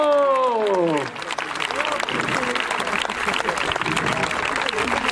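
Outdoor crowd applauding a rider at a Saracen joust historical reenactment, steady clapping spread across spectators following a short announcer voice at the start, continuing at moderate level to the end.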